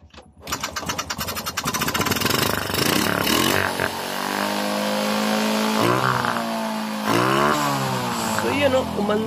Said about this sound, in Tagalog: Umandar na sa wakas